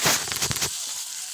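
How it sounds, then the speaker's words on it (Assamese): Pork is stirred and fried in mustard oil, giving a loud crackling sizzle with scraping stirs that suddenly drops to a faint simmer partway through. "মাংসটো লৰাই ধুনীয়াকৈ সিজাই থাকিব লাগিব"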